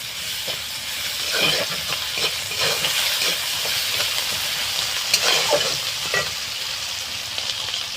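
Ginger-garlic paste and spices fry in a pan for a country-chicken egg curry with cauliflower and potato, giving a steady close sizzle and hiss broken by occasional stirring scrapes, with no talking.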